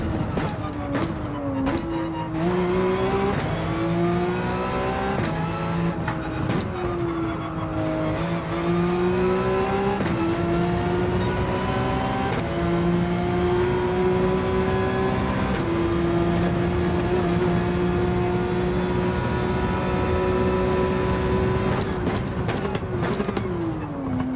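A Porsche 911 in Gran Turismo 7 drives hard, its engine droning loud and steady with repeated rising revs and sharp drops at gear changes, running continuously without talk.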